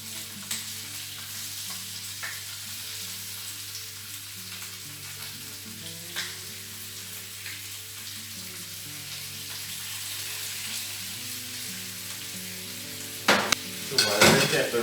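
Chicken pieces rubbed with paprika and salt sizzle steadily in a crowded pan, a constant close frying hiss that ends in a few louder clanks and knocks.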